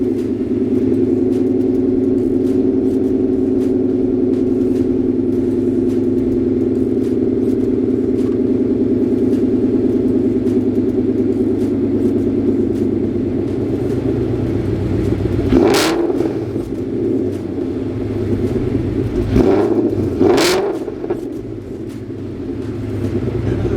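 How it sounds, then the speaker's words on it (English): A 2014 Ford Mustang with modified exhaust idles with a deep steady rumble, then blips the throttle in three sharp revs near the end, close and loud. "That's the exhaust for you guys."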